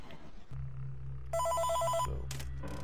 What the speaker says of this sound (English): Oh, we actually get a phone call